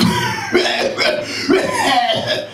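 A speaker imitates a thin young girl's hard, repeated coughing, a series of rough, forceful bursts delivered close and loud with short gaps between them.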